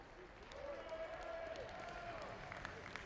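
A crowd cheers and claps for a runner on the final straight of a girls' 5000m high school invitational race, with a steady roar from the stands and an announcer talking over it.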